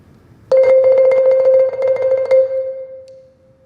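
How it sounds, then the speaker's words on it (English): Very fast, hectic marimba roll with uneven, chaotic strikes packed into about two seconds, ringing on a single sustained pitch that decays alone after the strikes stop; loud and close, no voices. "As you could hear, it's a really fast roll,"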